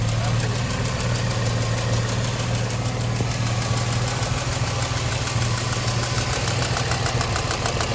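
An idling 2005 Infiniti G35 engine runs loud and steady up close, a continuous mechanical hum with a fast, faint ticking woven through it.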